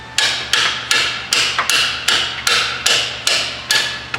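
A hammer strikes a stubborn bolt on a GMT800 truck front end, about ten sharp metallic blows in a steady, evenly spaced rhythm, loud and close with no talking.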